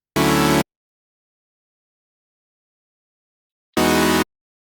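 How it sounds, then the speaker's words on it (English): Two short, loud saw-wave synth chord stabs from the Serum init preset, a half-second burst at the start and another near the end, separated by silence, bright and buzzy with no voice. "So I started with saw chords, the init preset in Serum"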